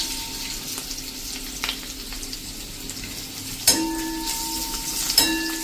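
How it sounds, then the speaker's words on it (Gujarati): Sesame seeds hit hot oil in a pan alongside dhokla pieces, giving a steady sizzle with two sudden louder crackling bursts as they go in, close up and without speech. "તો હવે આ સ્ટેજ છેલ્લે આપણે તલ નાખી દેશું"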